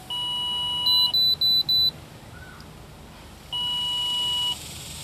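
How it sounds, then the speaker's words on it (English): An electronic warning beeping from a Ford Explorer with an ABS fault during diagnosis: a long tone, then four quick beeps, a pause, and another long tone, sharp and close over low background hum. "Sorry about the beeping again."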